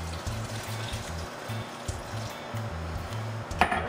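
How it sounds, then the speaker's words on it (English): Water runs steadily into a pot of curry goat to top it off, a soft continuous splashing and trickling that stays close. A low intermittent hum pulses underneath, and a brief clatter comes near the end. "I'm going to top this off with water."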